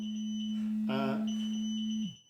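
Electronic alarm beeping: a steady sustained high-pitched tone with a brief buzzy pulse in the middle, ending in a short falling fade, heard alone without talk.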